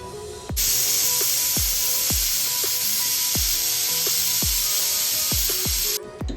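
A pressure cooker cooking green moong lets out a loud, steady jet of hissing steam with a high whistle, rattling in regular pulses for about six seconds before cutting off.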